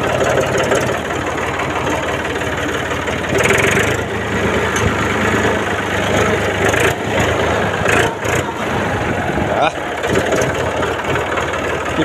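Ursus 3512 tractor engine starting and then idling, a loud continuous diesel rumble with knocking, close by throughout the clip.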